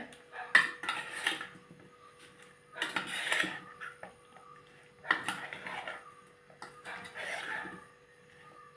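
Cut raw mango pieces for an uncooked pickle are mixed in a dish, producing several separate bursts of scraping and clinking between quiet pauses.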